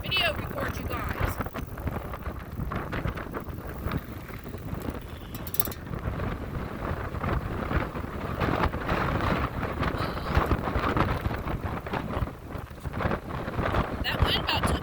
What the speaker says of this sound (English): That wind about took me off the road, Bubba.